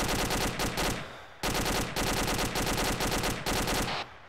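Bursts of rapid automatic gunfire in the video game ArmA 2 with the ACE mod, loud and close, in several long volleys separated by brief pauses, with no talking.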